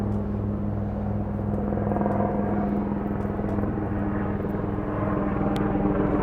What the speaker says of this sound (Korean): 위에 헬기가 지나가면 이어가도록 하겠습니다.